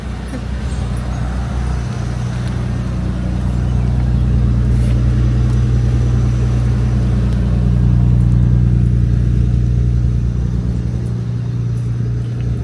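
A car engine rumbles steadily at close range, a low continuous hum that swells slightly as the vehicle moves slowly.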